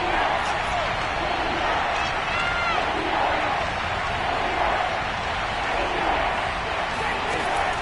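A Kansas City stadium crowd at a football game on third and goal roars in a dense, steady wall of cheering and noise that never lets up, with a commentator's voice faintly mixed in.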